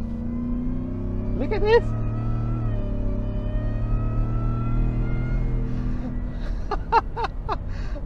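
A supercharged V8 in a Ford Shelby F150 pickup idles with a deep, steady rumble, then rises in short, sharp revs, with someone talking over it.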